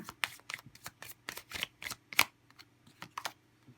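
Tarot cards are shuffled by hand in a quick series of crisp riffling bursts, about a dozen close, bright flicks with brief gaps between them, no voice present.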